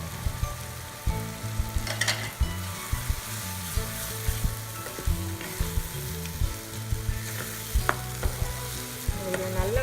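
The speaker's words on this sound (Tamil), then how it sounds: "இதில் நல்லா வதங்கி இஞ்சி பூண்டு பேஸ்ட் வாசனை போயிட்டணும்" Green chilli and ginger garlic paste sauté in a pan, a constant close sizzle broken by repeated scraping and stirring taps, with no talking.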